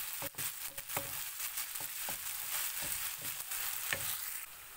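Ginger garlic paste fries in oil for a chicken liver roast, a close steady sizzle punctuated by repeated scrapes and taps of a spoon stirring in the pan, with no talking.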